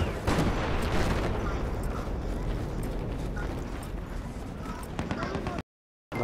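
Battlefield video game combat: dense, continuous gunfire and explosive rumble fill the clip at steady loudness, with a brief dropout near the end.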